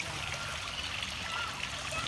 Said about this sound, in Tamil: நீங்கள் பார்த்தீங்கன்னா ஃபவுண்டன் இருக்குது